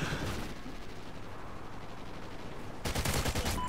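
Rapid assault rifle bursts in a Call of Duty: Ghosts multiplayer match, dense crackling shots that stop for a stretch before a loud, fast volley resumes near the end.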